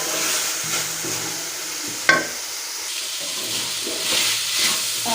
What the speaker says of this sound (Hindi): और प्याज जो है वो हमारा फ्राई हो गया है।